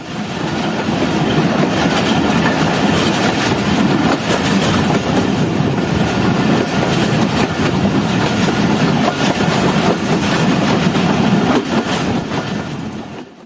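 Jaffer Express passenger train, hauled by three engines, running between Sibi and Quetta, with a loud, continuous roar and rattle of wheels and carriages heard close and steady from on board.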